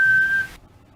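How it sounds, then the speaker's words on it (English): A short, thin, high whistle holds one steady note for about half a second, then cuts off into quiet. "What the heck? What was that whistling?"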